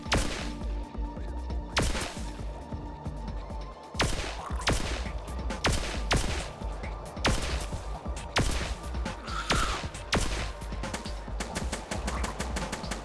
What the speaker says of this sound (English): Lure as much as possible, as after all, this is a shotgun.